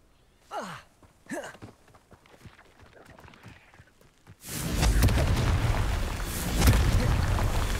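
A Confringo spell explosion from the video game Hogwarts Legacy: a few quick whooshing swoops and scattered clatter, then a sudden loud burst that turns into a sustained roaring rumble and fills the last few seconds.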